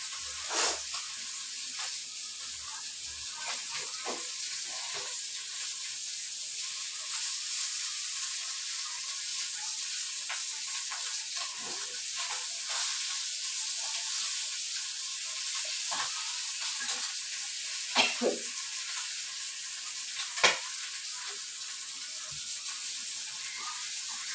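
Fish sizzling steadily in a pan of hot oil, a constant crackling hiss with occasional sharper pops and faint stirring.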